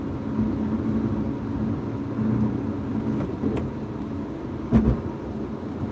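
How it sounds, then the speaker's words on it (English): A 2020 Lotus Evora GT engine drones steadily from inside the cabin, with a low rumbling tone and a few thumps from the bumpy ride. "A lot of people like the sound of the car."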